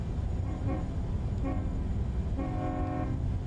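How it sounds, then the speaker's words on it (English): A train horn in the video game American Truck Simulator sounds three times, two short toots and then a longer blast, over a constant rolling rumble. "I believe that's a train horn."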